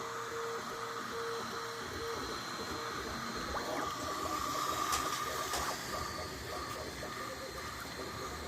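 A Bambu Lab 3D printer runs mid-print with a steady mechanical hum and hiss, brief pulsing stepper-motor tones early on and faint whirring movements throughout.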